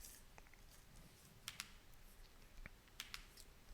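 Numbers are typed on a computer keyboard, a few soft, scattered key clicks in a quiet room, with a sharper cluster of taps at the end.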